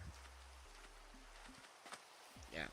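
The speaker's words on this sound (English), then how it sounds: "this rain feels kind of loud." Steady rain falls in a video game world, a constant hiss of drops at moderate loudness, joined by a few low tones and a brief voice near the end.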